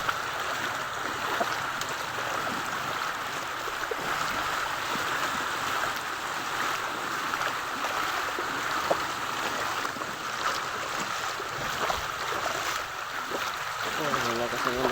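A strong water current rushes steadily past in a flooded area with rising water, a constant broad wash without letup.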